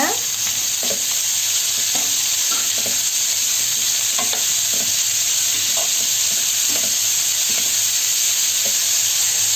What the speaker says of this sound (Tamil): பீன்ஸ், கேரட், கேபேஜ் நல்லா மிக்ஸ் பண்ணிக்கோங்க